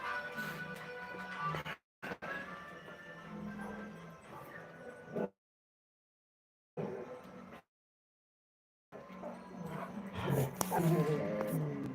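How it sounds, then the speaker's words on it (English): Several dogs outdoors in the Puebla countryside of Mexico, including a pit bull, yipping and whimpering in bursts with short silent gaps, moderately near, while people talk. "these dogs, man, this is out of control."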